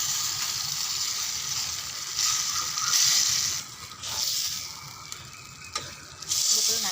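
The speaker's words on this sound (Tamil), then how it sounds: "இதுக்குள்ள நல்லா கலக்கி விட்டுருங்க." Tomato masala gravy being stirred in a pan, a steady sizzle with scraping spoon strokes that swell and fade in rhythm, close and fairly loud, no talking.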